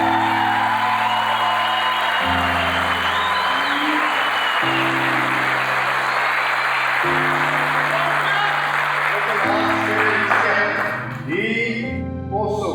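Applause with scattered whoops and crowd noise rises from an audience at a live show at The Masque, riding over sustained music chords that shift every couple of seconds before thinning out near the end.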